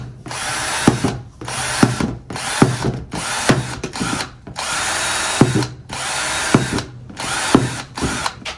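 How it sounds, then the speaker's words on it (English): A power drill bores small holes in a plastic worm farm container, in about nine short bursts of whining and grinding separated by brief pauses, loud and close. "but I'm gonna drill some small holes."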